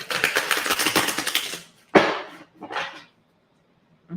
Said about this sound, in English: Let's give the deck a fresh shuffle here.